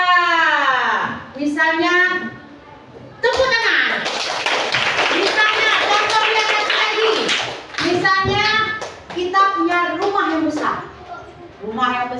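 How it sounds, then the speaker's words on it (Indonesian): Children clap their hands in a religious ethics classroom lesson, a loud patter of claps bunched in the middle, with children's voices speaking and calling out before and after. "Iya, misalnya tepuk tangan"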